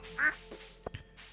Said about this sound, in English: ducks and animals and chickens and things.